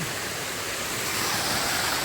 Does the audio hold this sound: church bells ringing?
no